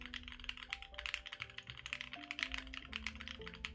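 Rapid, irregular keystrokes clack close up on a keyboard fitted with firm linear Alps SKCM Brown switches and tight O-rings, a dense stream of crisp taps with no speech.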